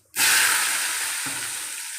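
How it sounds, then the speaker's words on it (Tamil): Onions, tomato and mint dropped into a hot pan with fennel, setting off a sudden loud sizzle that holds steady and slowly eases, with one brief stirring knock midway. "தக்காளி, புதினா தழை நல்லா வதங்கட்டும்."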